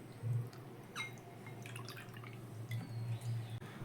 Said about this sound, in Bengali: এবার জল ছেঁকে ছেঁকে চিড়েটা এর মধ্যে দিয়ে দিচ্ছি।